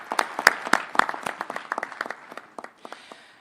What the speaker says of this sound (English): Let's give ourselves a round of applause for the wonderful day we've spent.